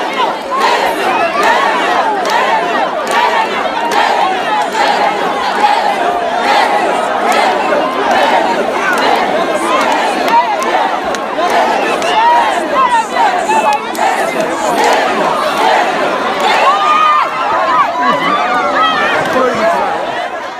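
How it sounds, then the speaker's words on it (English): A dense crowd roars continuously during the Orosun Festival worshippers' procession through the market square, with loud chanting, shouting and overlapping voices filling the scene. "The procession by the worshippers from the hill through the crowd of visitors at the market square marks the climax of the festival."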